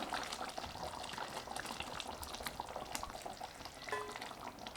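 A steady bubbling sizzle of thick paneer capsicum gravy simmering in a pan, with scattered pops and a brief clink near the end.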